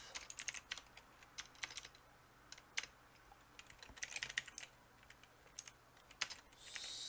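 Irregular clicking of keys on a computer keyboard during coding, quiet and close, with short clustered bursts and pauses, no voice present.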